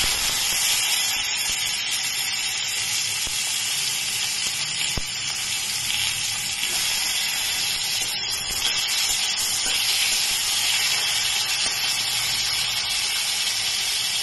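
Tomatoes sizzling in hot mustard-style cooking oil after a black cumin (kalo jeere) tempering, for a mustard-paste fish curry; a steady, close frying hiss runs throughout with a few faint stirring clicks and no talking.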